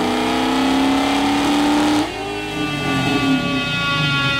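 A GM LT4 V8 car engine revs hard and loud, its pitch climbing steadily before a brief dip and another surge of roaring acceleration.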